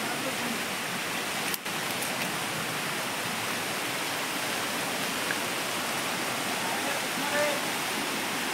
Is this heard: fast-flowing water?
yes